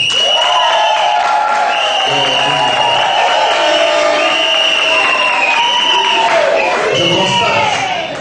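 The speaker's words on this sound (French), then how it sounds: "Sous l'applaudissement." Guests at an official wedding ceremony cheer and applaud amid loud crowd noise, with voices shouting and talking over the clapping throughout.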